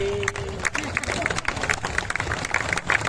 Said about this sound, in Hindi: तालियां बढ़ाइए